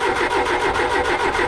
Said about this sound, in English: she's burning a little rich there. Sputting out the carburetor.